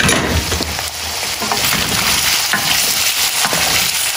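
Pork pieces for menudo sizzle loudly and steadily in a hot pan as they are turned over, with a dense crackling hiss and faint scraping throughout, no voices.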